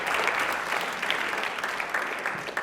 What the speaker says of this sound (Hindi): एक बार तालियां सर के लिए जोरदार हो जाएं।